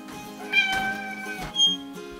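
A cat meows twice, fairly close, over a soft tonal music bed with no talk.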